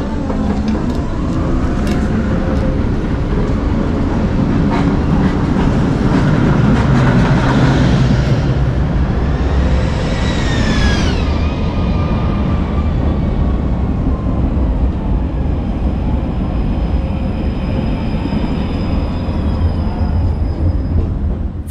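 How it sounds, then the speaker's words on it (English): A Szczecin tram, a Konstal 105 NG, pulls into the Plac Rodla stop with a steady, loud rolling rumble. Midway come rising and falling metallic wheel squeals, and a faint high tone lingers as it settles. "Here I'm leaving and changing for the next train, and here we can see the arrival."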